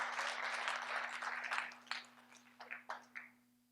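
An audience claps at a real estate board event, a dense burst of applause that thins into scattered, separate claps as it dies away.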